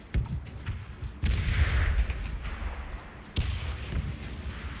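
Gunfire in the battle royale game PUBG, with repeated shots in bursts at steady intervals at fairly close range, sharp cracks over a constant background rumble.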